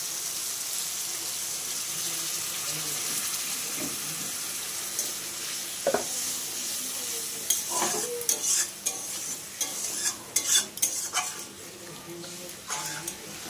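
Salted water from soaking paneer is poured into a hot sizzling pan, giving a steady close sizzle with stirring clatter and scattered sharp bursts and spatters toward the end.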